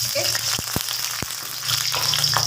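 Whole cinnamon, cloves, mace and cardamom hit hot oil for a bean curd gravy, giving a steady close sizzle with a few sharp pops and a low background hum, no voices.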